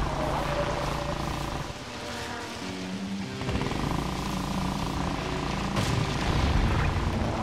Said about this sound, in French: Il y a un scooter dans Mario.